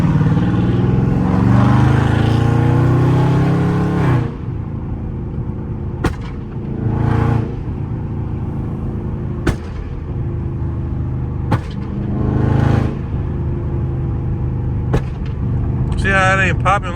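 Flame-tuned Dodge Charger Scat Pack V8 roars loudly under acceleration, then settles into a rumbling idle broken by sharp exhaust pops and cracks at irregular intervals, with people talking in the car.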